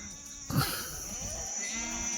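Kathiawadi goats on a farm give a short, sharp bleat followed by a longer, thinner bleat a second later, both close by over faint background noise.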